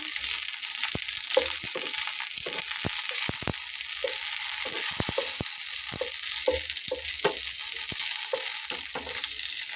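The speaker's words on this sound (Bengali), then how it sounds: "আমি একটু ভালোভাবে উল্টো পাল্টে ভেজে নিচ্ছি।" Mixed dried fish and chillies fry in a pan under a steady sizzle, and a utensil stirs and flips them in repeated sharp clicks and scrapes against the metal. The sound is close and continuous, with no voice.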